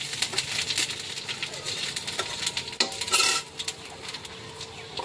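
Panch phoron whole spices hitting hot oil in a pan, a busy crackling sizzle full of sharp pops and spatters, with metallic clinks of a spoon against the pan and a brief louder burst near the middle.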